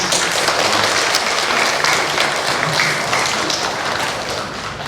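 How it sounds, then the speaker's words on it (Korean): A church congregation applauds steadily, a dense crowd of clapping that holds strong throughout and tapers slightly toward the end. "우리 옆에 있는 분들을 위해서도 박수"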